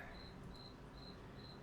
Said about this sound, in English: those crickets. They just love this basement.